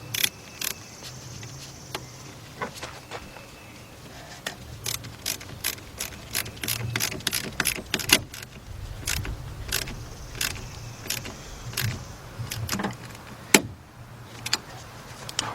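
Repeated sharp clicks from a 13mm socket ratchet tightening a battery terminal clamp on a 1992 Ford Ranger, with steady bursts of rapid ratcheting strokes close to the microphone and no talking.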